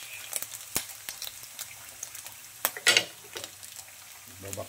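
Filipino pancit gisado stirred in a frying pan, giving quiet sizzling with a series of sharp scraping and clinking strokes of the utensil against the pan, close and intermittent.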